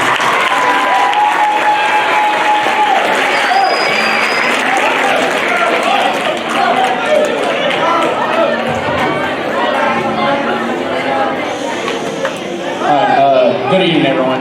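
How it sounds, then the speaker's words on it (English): Clapping fills a school auditorium at a middle school spring band concert, a sustained loud round of applause from the audience for an award winner, with crowd chatter mixed in and talk near the end. "Give them another round of applause, please."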